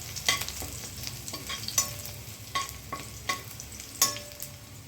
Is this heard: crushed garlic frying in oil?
yes